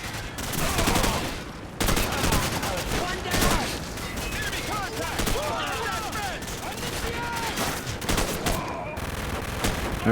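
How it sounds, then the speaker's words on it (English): Gunfire crackles in Call of Duty 4: Modern Warfare, with rapid bursts and scattered shots mixed with a flashbang, loud and close, while voices shout over the combat. "Flashbang out."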